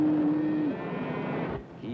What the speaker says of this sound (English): In Pacific, Missouri, Richard Winkler rides herd on his cattle without riding a horse.